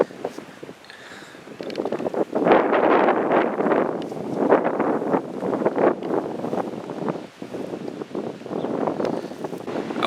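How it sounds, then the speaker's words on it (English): Wind gusts buffeting outdoors on a brisk day, a steady broadband rushing that swells and eases in waves, close and fairly loud on the microphone. "It is brisk and still pretty windy outside"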